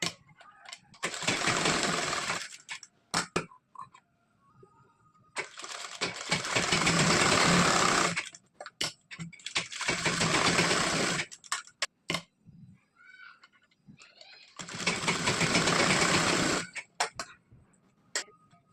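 Sewing machine running in four separate bursts while stitching the button placket of a blouse, with short quiet pauses and fabric handling between runs.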